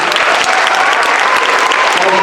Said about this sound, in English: Let's give all these guys a big hand clap.